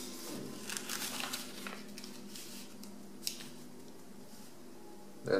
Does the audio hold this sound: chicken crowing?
no